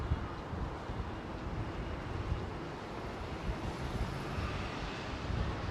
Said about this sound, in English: So this one is Finnair's 321 in from Faro.